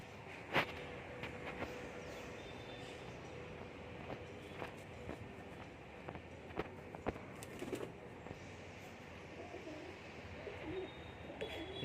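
Pigeons coo softly beside their coop amid a steady outdoor wash of background noise, with a few sharper knocks and flutters scattered through the stretch and no voices.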